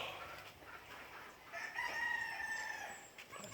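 A young Hatch Gray stag rooster crows once at moderate distance over faint rural background noise, the call rising then holding a drawn-out note.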